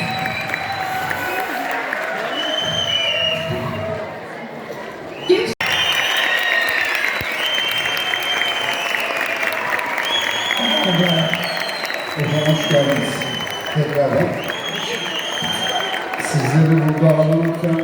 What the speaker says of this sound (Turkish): Büyük alkışlarla.